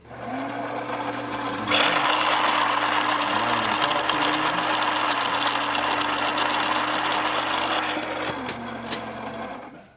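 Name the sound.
Gaggia Brera coffee machine grinder running after repair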